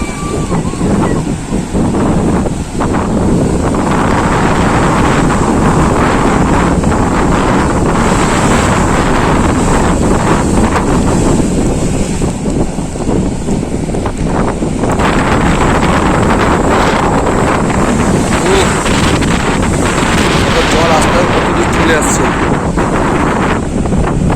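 Sea waves surge and wash up the shore at Shankarpur beach in the rainy season, a loud continuous roar battered by heavy wind buffeting the microphone.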